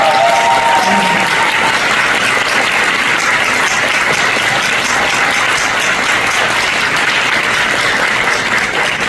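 Sustained audience applause at a Korean youth leaders' academy launch ceremony, a dense, loud, even wash of clapping from a large crowd that continues without pause.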